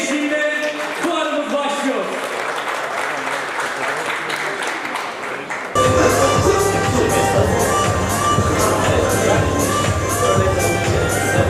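Applause at the opening of the Bodrum Hotel Show 2024 in Muğla, Turkey: a crowd claps loudly and steadily, swelling suddenly midway into a dense, sustained ovation, with speech heard before it.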